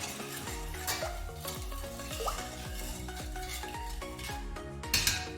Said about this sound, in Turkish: Karıştıracağım.